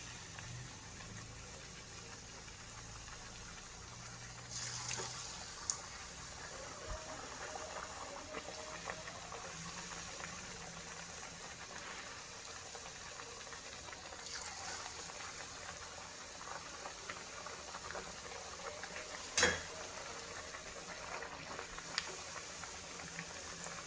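Pappu chekkalu, rice crackers, fry in hot oil with a steady low bubbling sizzle that holds throughout, with a few brief clinks and small bumps rising over the constant hiss.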